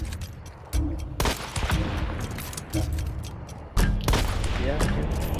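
Gunfire rattles through a Hunt: Showdown match, with a series of sharp shots and short bursts of varying loudness, some closer and some more distant, filling the scene almost without a break.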